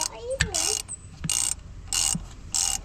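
A ratchet tightening the bolts on a Porsche Cayenne starter motor, close and mechanical, in three or four short bursts of rapid clicking separated by brief pauses and a few knocks.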